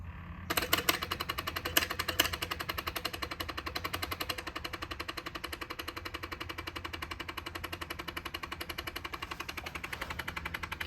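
A Ford Ranger EcoBoost that cranks but won't fire makes a steady, rapid mechanical chattering while cranking, loud and close, holding one even rhythm throughout.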